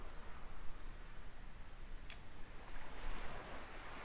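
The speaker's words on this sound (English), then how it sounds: "Nice to hear the waves there." Ocean surf rolls in a steady, soft wash beside the airport scenery at Sharm el Sheikh, Egypt, in Microsoft Flight Simulator, faint and continuous with no talk over it.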